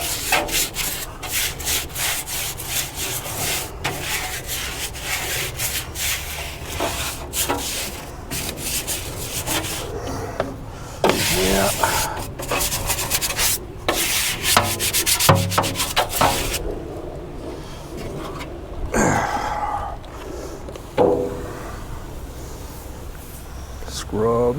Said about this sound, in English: Scrub.